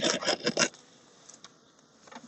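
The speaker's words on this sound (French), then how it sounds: "Ça va, c'est pas beaucoup d'abeilles." Honeybees buzz softly around an opened Kenyan top-bar hive during an inspection, a faint steady hum following a few louder handling knocks and rustles at the start.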